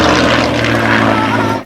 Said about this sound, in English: the two sounds that make me weak at the knees are the Rolls-Royce Merlin engine